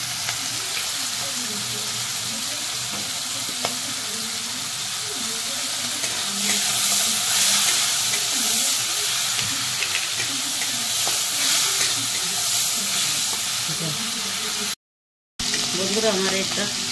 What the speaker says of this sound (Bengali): এইটা আমি কচুর পাতার জন্য ভেজে নিচ্ছি। আমি নুন হলুদ দিয়ে দিচ্ছি।